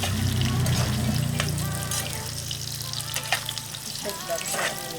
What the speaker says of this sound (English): we're frying the potatoes and the carrots first